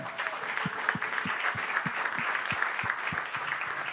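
A church congregation applauds at a fairly low level, a dense wash of clapping with soft, regular thumps running under it.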